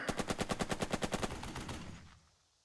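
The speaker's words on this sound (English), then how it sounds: "Now that the mortar fired" Mortar and gunfire in the turn-based war game Burden of Command: a rapid series of about fifteen evenly spaced loud reports, like a burst of automatic fire, fading into a short rumbling tail.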